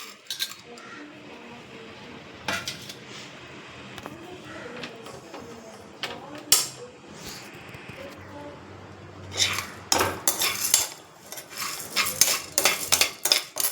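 Chana dal, urad dal and mustard seeds are tipped from a plate into a dry pan, with clinking metal, scraping and rattling clatter in bursts that grow louder and busier toward the end, close by.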